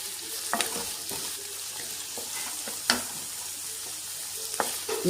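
Onions frying with garlic in a pan for a fenugreek-leaf dish, a steady sizzle broken by several sharp spatula scrapes and stirring knocks at irregular intervals.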